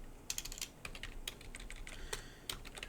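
Quick keystrokes tap on a computer keyboard, a sparse run of sharp clicks with short pauses, close and quiet, without any talking.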